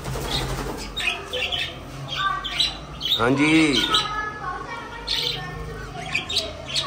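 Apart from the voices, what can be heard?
birds chirping and squawking outdoors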